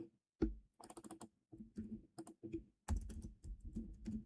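An SQL query being typed on a computer keyboard, heard as close, quiet bursts of irregular key clicks with short pauses between runs of keystrokes.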